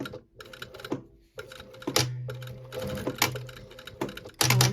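A sewing machine stitching a zipper closure and back stitching at a top corner, a close rapid mechanical chatter in short runs separated by brief pauses and a low motor hum.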